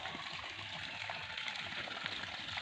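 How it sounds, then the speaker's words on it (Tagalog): Water flowing in a small stream, a steady soft rushing and trickling, faint and continuous with no talking. "tubig sa sapa ayan ayan ang tubig sa sapa guys"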